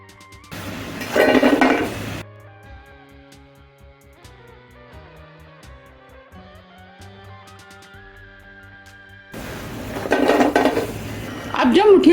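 Wheat-flour muthiya lifted from a kadhai onto a plate, with two bursts of close metallic clatter and scraping separated by a quieter stretch carrying soft background music, no voices.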